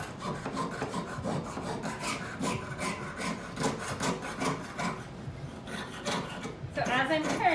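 Steady back-and-forth rasping of a hand saw cutting through metal, repeated strokes close up, with a brief scrape near the end.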